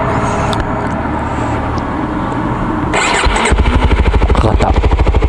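A Kawasaki Ninja 250SL motorcycle cranks briefly, then its engine catches and settles into a loud, close, rapid, even idle pulse.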